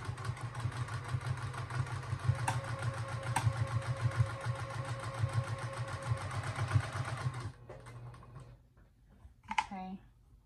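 A sewing machine stitches fabric scraps over polyfill stuffing to make a reusable sponge, running in a steady buzzing whir with a few sharp clicks for about seven seconds, then stopping as quieter handling noises follow.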